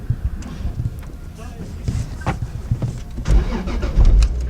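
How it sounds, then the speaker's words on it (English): A manual twin turbo 2JZ Toyota Supra MK4 RZ with a six-speed gearbox, its engine cranking and catching into a low rumbling idle nearby, with people talking over it. "So, my first drive of a twin turbo Supra, manual twin turbo Supra."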